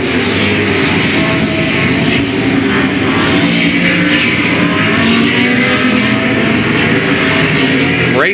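Late model race cars race at Louisville Motor Speedway in 1995, a loud continuous roar of engines as the pack exits a turn, droning steadily throughout.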